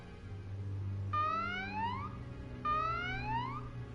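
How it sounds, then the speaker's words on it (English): Alarm in the video game Valkyria Chronicles 4: two long rising-and-falling wailing siren sweeps, each about a second, sounding over a steady low hum of in-game background music with no talk. "That's the alarm. Guess the Imperials have popped up."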